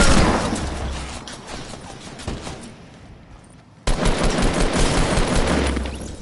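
Gunfire in Fortnite: loud, dense automatic shooting in fast bursts, easing off briefly mid-way, then resuming abruptly at full intensity until the end.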